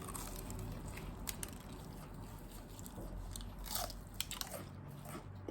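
Chicken wings being bitten and chewed at a couple's Christmas home party, with close, moist crunching and smacking bites repeating irregularly over steady low room noise, a few sharper crunches standing out.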